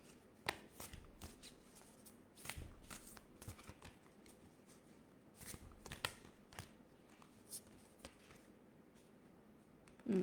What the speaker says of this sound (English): Paola, I'll draw a card for you.